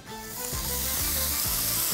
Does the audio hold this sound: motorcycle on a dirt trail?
no